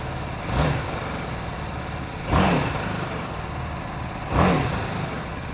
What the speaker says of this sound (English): Let's take a look at what the bike sounds like.